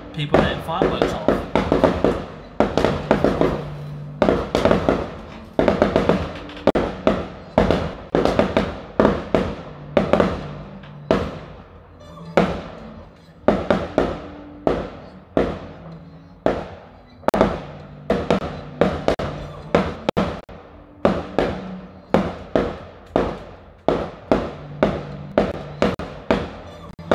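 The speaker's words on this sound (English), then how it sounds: "So yeah, that them fireworks, you know, they would have let off because we got through in the Champions League." Fireworks set off to celebrate a football club reaching the Champions League, heard as a long run of sharp cracking bangs in irregular bursts, some close and loud, with a voice speaking over them at times.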